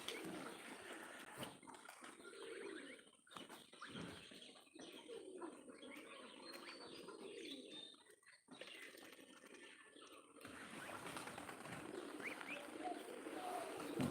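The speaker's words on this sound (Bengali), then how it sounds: "ওই দেখেন কবুতর কোথায় বসে আছে উপরে উড়াউড়ি করতেছে" Soft pigeon cooing at a pigeon farm in a quiet outdoor space, pigeons flying about, with a few faint chirps and brief rustles, distant and low in level.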